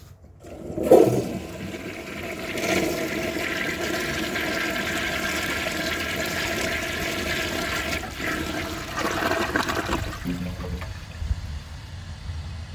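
A 1969 American Standard Madera toilet flushes with a loud rush of water that opens abruptly, churns steadily for about nine seconds, then tapers into a quieter gurgling refill, with no voices over it.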